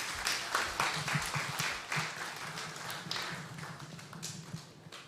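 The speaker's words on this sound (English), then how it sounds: "let's give the panelists another round of applause." Church audience at a Nazarene worship service applauds the panelists, a close, uneven round of individual claps that thins out and fades toward the end.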